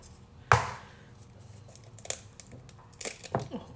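An egg cracked on a bowl edge for pancake batter, one sharp close crack followed by quieter taps, rustles and shell fiddling.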